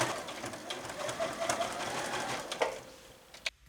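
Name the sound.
sewing machine sewing a straight stitch on a T-shirt pocket edge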